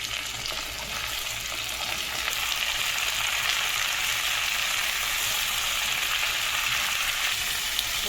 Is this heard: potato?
yes